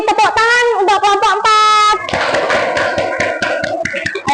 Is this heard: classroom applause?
yes